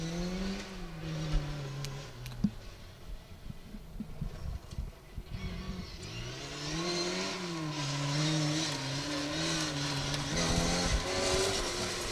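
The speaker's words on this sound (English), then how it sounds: "There is Terry Cree in that little Mini Cooper." A little Mini Cooper rally car runs a 2WD gravel stage at the Woodpecker Stages Rally, its engine note rising and falling through gear changes as it passes at middle distance, with loose stones and road noise underneath.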